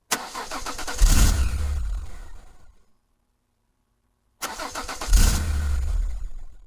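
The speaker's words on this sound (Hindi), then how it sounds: "कई बार स्टार्ट करने की कोशिश की, लेकिन गाड़ी ने जवाब दे दिया" Cartoon car engine failing to start: two bursts of cranking and sputtering, each a few seconds long and fading out without catching, separated by a short silence.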